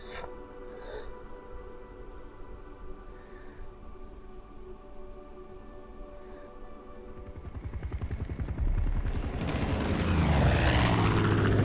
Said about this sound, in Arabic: ده في طيارة